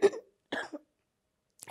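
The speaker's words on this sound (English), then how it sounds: "Excuse my cough." Two short throaty coughs close to the microphone during a conservation panel discussion, then a faint third sound after a pause, with no other noise around them.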